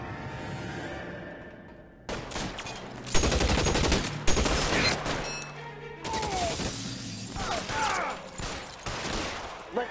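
Gunfire in L.A. Noire, a burst of shots and sharp cracks with shattering impacts, loud and dense after a quieter opening, with a faint voice under the game sounds.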